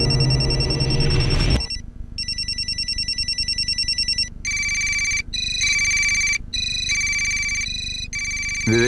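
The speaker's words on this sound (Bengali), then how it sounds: "বিবেকের মায়ের ফোন বাজছে স্যার" A mobile phone ringtone in a crime drama scene, a loud electronic melody repeating in short bursts with brief gaps after a noisy opening moment, with no talk over it.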